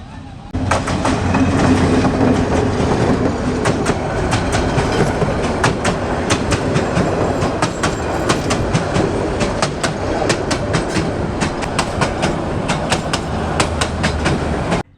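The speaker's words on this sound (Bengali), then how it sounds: "তীব্র ব্যাগে একটি ট্রেন ঢাকার দিকে যাচ্ছে কাউরাই অতিক্রম করে" A train speeds toward Dhaka across the Kawraid-Goyeshpur rail bridge, its loud, close rhythmic clatter of wheels over rail joints and bridge spans filling the whole stretch before cutting off.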